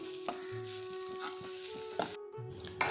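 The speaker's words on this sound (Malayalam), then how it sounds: "അപ്പോൾ നമ്മുടെ തേങ്ങ ഇവിടെ നന്നായിട്ട് വറന്ന് വന്നിട്ടുണ്ട്." Grated coconut roasts to a brown colour in a pan for Kerala-style prawn theeyal, a soft continuous sizzle broken by short scraping stirs, with a steady hum underneath and a brief near-silent gap toward the end.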